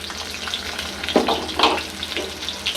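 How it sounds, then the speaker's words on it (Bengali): Minced garlic frying in hot oil at a village stove, a close crackling sizzle broken by a couple of louder scraping stirs. "তেল গরম হয়ে গেছে রসুন কুচি আস্তে রসুন দিছি"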